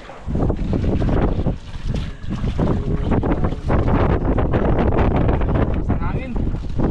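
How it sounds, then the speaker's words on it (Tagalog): Strong wind buffets the microphone on a boat at sea in rough waves, a loud continuous gusting roar with people talking over it. "Ang hangin."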